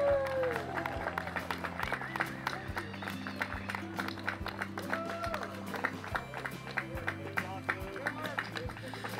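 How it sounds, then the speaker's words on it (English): A crowd claps and applauds for finishers of a mountain climb race, a steady dense patter of hands over background music and murmuring voices, fairly distant and sustained throughout. "One more big round of applause for these guys."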